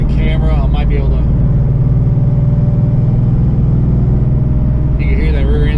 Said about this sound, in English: You can hear that rear end's whining.